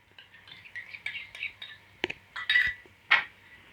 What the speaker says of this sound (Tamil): தயிரை நல்லா மிக்ஸ் பண்ணி விட்டுக்கணும்